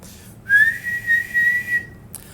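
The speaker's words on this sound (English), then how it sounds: "A shrill whistle was heard outside." A single shrill whistle sounds outdoors, one long sustained tone that wavers slightly in pitch for over a second, loud and close, standing alone in quiet surroundings.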